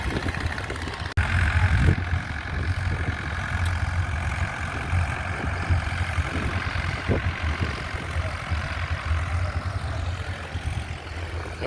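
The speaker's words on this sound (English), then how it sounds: "all the tractors are off for the showground" Vintage tractors pulling away together at a classic vehicle and steam fair, a steady, close, continuous rumble of engines with a low throbbing drone, running alone without talk for the whole stretch.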